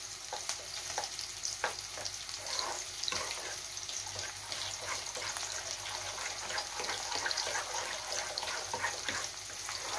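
A spoon stirs Kashmiri red chilli powder and other spices into yogurt for dahi aloo, giving a steady wet swishing with soft, frequent clicks against the bowl, close and continuous, with no talking.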